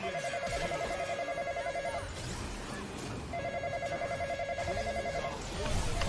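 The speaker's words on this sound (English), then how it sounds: "Somebody close the phone!" A telephone rings in two long trilling bursts with a pause between, loud and close, over background chatter and noise.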